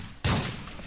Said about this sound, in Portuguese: Uns 3, 4 tiros pra eles morrerem.